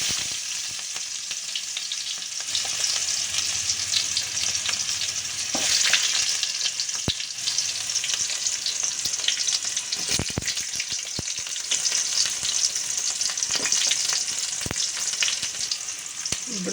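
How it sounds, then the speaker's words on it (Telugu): Onions frying in about three spoons of hot oil, a steady bright sizzle with occasional crackles and a few sharp utensil clicks, close and continuous with no talking. "ఆయిల్ హీట్ అయింది కదా, ఇప్పుడు ఆనియన్ చేద్దామండి."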